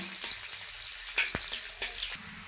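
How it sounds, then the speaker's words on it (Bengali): Green chilies and garlic frying in hot oil in a wok, a continuous bright sizzle with a few soft stirring knocks, close and even, no voices. "দেখুন, লঙ্কা আর রসুন ভালো করে ভেজে নিয়েছি।"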